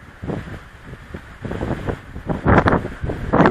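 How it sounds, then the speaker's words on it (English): Gusty wind in Utah buffets the microphone outdoors in uneven surges, a roaring low rush that swells louder toward the end, close and loud with no talking. "I'm so sick of the wind"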